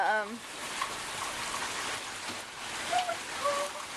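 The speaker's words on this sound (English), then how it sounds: "It's pouring rain. I'm pretty sure you can hear it." Heavy rain pours outdoors in Oregon, a steady, even hiss of drops on surfaces filling the whole stretch, with a few faint high chirps or voice-like tones drifting over it.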